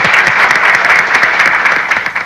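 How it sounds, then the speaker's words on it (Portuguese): Audience applause at the final episode of a Brazilian reality show, a dense, loud, continuous clapping from many hands, steady throughout and starting to fade at the end. "Uma salva de palmas para vocês,"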